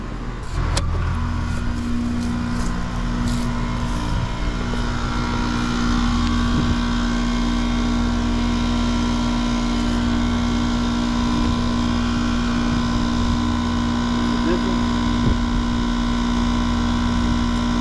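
A rooftop HVAC unit running after being restarted, a loud, steady motor drone with a strong constant hum and a few faint clicks, no voices.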